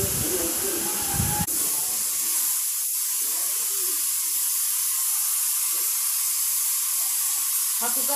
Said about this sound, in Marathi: हा कुकर बघा आवाज कसा करतोय